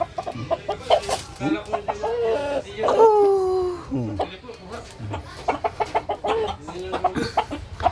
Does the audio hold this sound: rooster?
yes